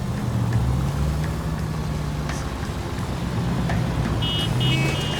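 A car in L.A. Noire is driven fast, with a loud, steady engine drone and rushing road noise throughout and a few faint higher tones near the end.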